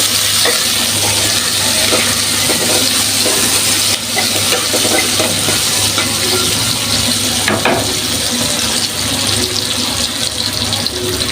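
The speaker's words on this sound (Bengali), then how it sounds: "আর এই যে আমি বেরেস্তাটা ভেজে নিতেছি" Onions frying into beresta in a pan, a loud continuous hiss and crackle with scattered stirring scrapes, close and unbroken throughout.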